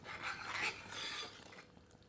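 Dried fenugreek leaves, kasuri methi, rubbed between the palms over butter chicken kofta gravy, a brief soft papery rasping that fades after about a second, faint and close with no speech.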